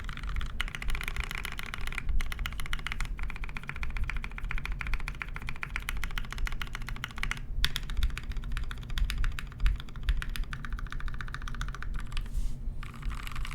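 Modded TMO50 keyboard, lubed with Krytox 205 grade 0, with a polycarbonate plate and Deskeys switch films, typed on in a fast, dense, continuous stream of muted key clacks over a low steady background hum.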